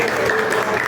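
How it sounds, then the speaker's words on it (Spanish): A short burst of audience applause at a literary talk, dense clapping filling under a second with speech overlapping it. "fuertes palmas por favor"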